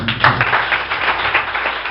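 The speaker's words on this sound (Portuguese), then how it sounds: "Aplauda o Senhor Jesus" A church congregation at an evangelical service claps and applauds together, a dense, loud, continuous burst of hand claps close by lasting a couple of seconds, with low voices faintly underneath.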